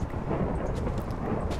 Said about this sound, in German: Wunderschön, Donner gerade.